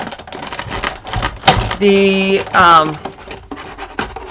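A hand-cranked die-cutting machine feeds silver craft paper through, giving a close grinding rasp with ratcheting clicks and a couple of squealing, tonal creaks of the rollers mid-way, then lighter clicks as it finishes.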